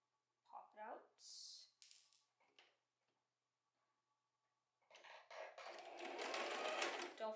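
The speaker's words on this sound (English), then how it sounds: "So now I'm just gonna stitch my scrunchie together with a straight stitch starting at that 1 inch point." A sewing machine straight-stitches a fabric scrunchie. It starts after a few brief handling noises and a short voice, then runs steadily and close-up for the last couple of seconds.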